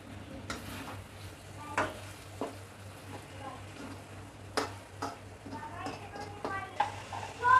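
Slit green chillies fry in a mutton karahi with a steady sizzle, broken by clinks and scrapes of stirring against the pan. Someone talks softly over the cooking.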